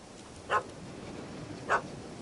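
Two short, distant dog barks from a puppy in The Witcher 3 video game, spaced about a second apart over a quiet ambient background.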